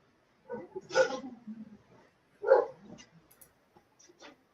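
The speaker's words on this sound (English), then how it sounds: "130-pound dog." A large 130-pound dog barks a few times in separate bursts, two strong woofs with softer trailing sounds and faint clicks between, fairly close in an otherwise quiet room.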